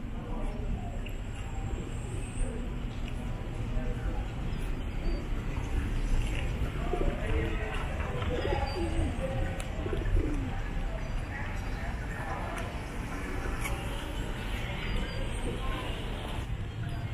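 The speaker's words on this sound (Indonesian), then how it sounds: "Di sini banyak sekali burung merpati." Pigeons coo softly and repeatedly amid a busy outdoor hum in San Juan, Puerto Rico, with occasional faint chirps from other birds.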